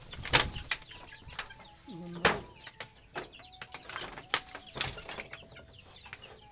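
Chickens flap their wings in short bursts and cluck now and then, with scattered scratchy rustling and brief background voices.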